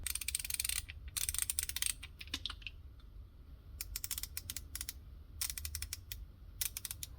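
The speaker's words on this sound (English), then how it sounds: "the clicking of that, you can hear that this one has just a finer click, so it's got more teeth" A stubby ratchet screwdriver clicks through its mechanism in quick, fine rattling bursts, close and crisp, separated by short pauses, with no talking over it.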